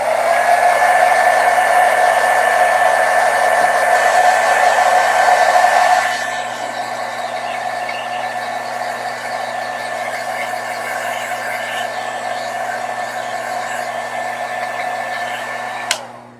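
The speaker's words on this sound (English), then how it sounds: "So I'm just going to go over it with a blow dryer quickly." A handheld blow dryer runs continuously over watercolor paint on a cherry blossom painting, a loud steady whooshing roar with a fan whine that drops to a lower setting partway through, then cuts off at the end.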